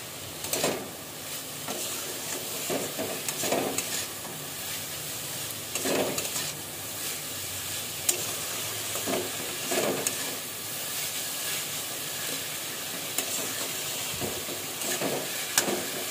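Vegetables seasoned with salt and pepper cook in a covered pan, giving a steady close sizzle and steamy hiss with occasional stirring scrapes and no voices.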